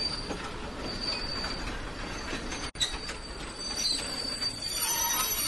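A train pulling into a station as a story sound effect: a dense, steady rumble of rolling rail cars with high, thin wheel squeals throughout, broken by one brief dropout midway.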